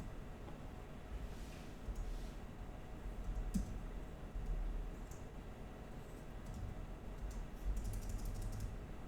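Typing on a computer keyboard while writing JavaScript code, a steady stream of soft, close key clicks running continuously with slight bursts, no talk.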